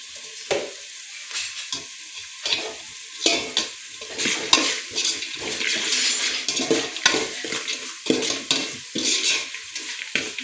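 Sliced onions fry in a hot pan for hotel-style veg pulao, a steady close sizzle broken by repeated scraping stirs with a spatula and light clinks of metal.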